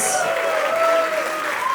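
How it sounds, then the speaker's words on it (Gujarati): A live comedy show audience applauds to welcome the writer Karan Vyas. Steady, crowded clapping and cheering run throughout, with a sustained whistle-like tone riding above the noise. "તાળીઓ થઈ જાય, કમાન એવરીબોડી."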